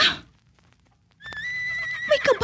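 A horse whinnies in a clear, rising and falling call after a brief quiet stretch, standing out alone at moderate loudness with a faint low rumble beneath.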